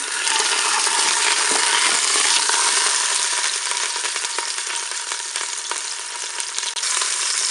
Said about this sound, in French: on va faire dorer le rôti sur toutes ses faces